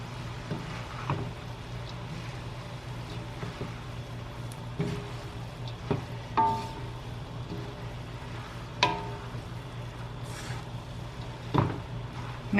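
Pancit bihon rice noodles tossed with vegetables in a pan, giving soft scraping and squishing stirs at irregular intervals over a low, steady sizzle, fairly quiet and close.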